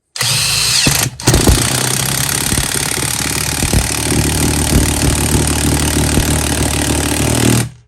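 A Parkside impact driver drives a screw in a loud, steady whir that runs almost continuously for about seven seconds after a short catch near the start, then stops abruptly, heard close with no voices.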